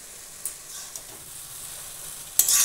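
Bottle gourd frying in a pan with salt and turmeric being stirred in, giving a faint continuous sizzle broken by a few brief scraping clicks of the spatula and a louder stir at the end.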